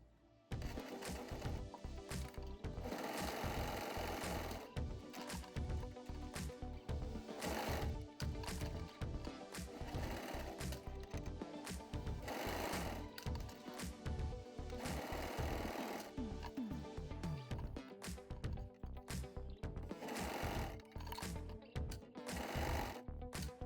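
A sewing machine stitches the side seams and inseam of a child's romper with a 1/4 inch seam allowance, running loud and steady in continuous bursts with short pauses between runs.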